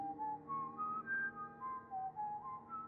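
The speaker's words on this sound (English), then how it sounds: "and then the whistling began" A lone, wavering whistle drifts through a slow, eerie melody of sustained notes that slide up and down, quiet and with no other sounds.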